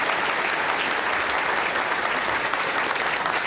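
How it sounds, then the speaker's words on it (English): A crowd at a Cook County Board President candidates' debate breaks into steady applause, a dense, even wash of many hands clapping that fills the room throughout, with no speech over it. "How about a round of applause?"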